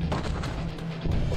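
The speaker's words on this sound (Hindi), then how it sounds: "मशीन गनों की तड़तड़ाहट, बमों के धमाके" Dense, continuous rumbling gunfire and booming blasts fill the whole stretch, loud and close, with a heavier burst near the end.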